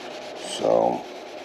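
Fine sandpaper rubbed across the body of a 2017 EZGO RXZ golf cart, a single close, loud swipe of abrasive scraping that swells and fades in under a second.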